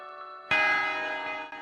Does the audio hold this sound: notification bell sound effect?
yes